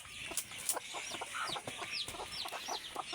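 A desi hen being lifted into a basket gives soft, repeated clucks and squawks amid quiet rustling, fairly faint throughout.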